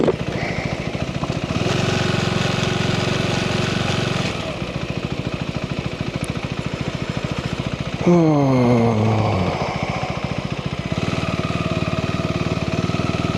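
A motorcycle engine runs steadily with low, rough rumbling, then briefly revs and winds down before settling back to idle; wind noise sits underneath.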